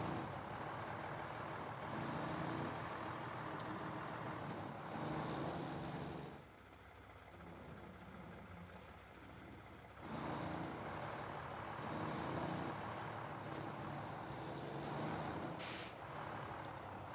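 Truck air brake releasing in a driving video game, a broadband hiss of compressed air under a running engine, with a brief sharp burst of escaping air near the end.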